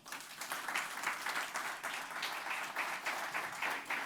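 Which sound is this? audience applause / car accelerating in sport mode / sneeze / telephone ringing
audience applause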